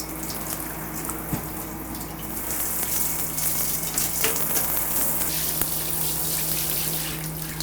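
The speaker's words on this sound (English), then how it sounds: "We'll rinse it with hot water." Hot water runs continuously from a shower onto tile, a steady hissing gush that splashes and spatters with no talking.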